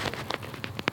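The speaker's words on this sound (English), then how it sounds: "Oh crap, it's raining." Rain patters in a video game, a brief burst of dense hiss with irregular louder drop splashes, fairly close and without talk.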